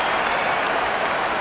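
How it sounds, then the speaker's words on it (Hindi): Cricket spectators at an IPL 2024 match between Mumbai Indians and Rajasthan Royals applaud a fifty, a steady dense wash of clapping from a large stadium crowd. "दर्शक इस 50 रन को अपने तालियों से सराहते हुए"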